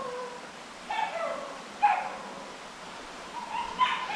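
A few distant dog barks and yips, spaced out over a quiet outdoor background, fairly faint.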